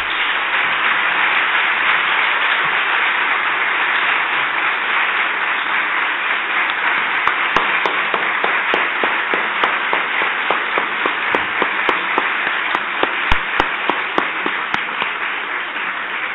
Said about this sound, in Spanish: ¿qué les parece que le demos un gran aplauso